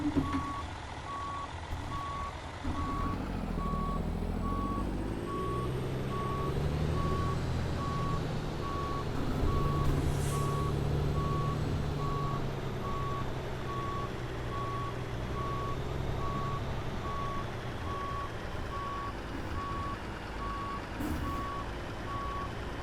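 A long trailer is backed up slowly by a semi truck in American Truck Simulator, its steady reversing beeps repeating evenly for the whole stretch over a continuous low engine drone, with no voices.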